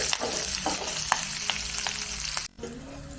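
Steady sizzling of a tempering frying in hot oil for a Guruvayur rasakalan curry, with a few sharp crackles and pops, close by; it cuts off briefly near the end before resuming.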